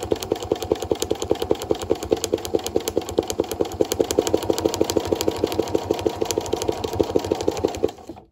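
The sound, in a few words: sewing machine stitching free-motion quilting at increased speed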